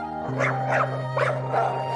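Cartoon dog barking in a short run of about four yaps over a steady musical backing, each bark clear and close.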